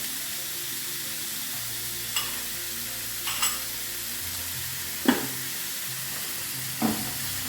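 Onions sautéing in a pan for chicken thoran, a continuous gentle sizzle with a few isolated spatula scrapes spaced seconds apart, close by.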